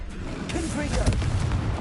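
A Confringo fire spell from the Hogwarts Legacy video game bursts with a booming, gunfire-like blast and crackling rumble that holds steady, while a voice is briefly heard over it.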